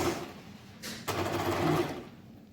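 A sewing machine stitches along the crease of quilted waistcoat fabric, a close mechanical whir that starts, pauses briefly with a sharp click, then runs steadily before easing off.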